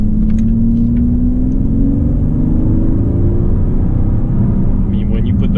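A Mercedes-Benz CL600 with a V12 pulls hard under full throttle, a loud, deep, continuous engine rumble with a slowly rising tone heard from inside the car.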